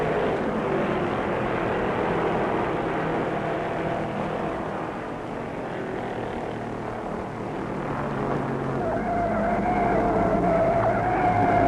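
Stock cars race at Charlotte Motor Speedway in 1967, a blended engine roar from several cars that rises and falls as they pass, with a whining engine tone that climbs toward the end.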